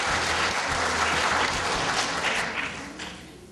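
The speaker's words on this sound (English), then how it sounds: "Let's give everybody a round of applause." Audience applause after a student quiz bowl challenge game, a full round of clapping that holds steady and then fades out toward the end.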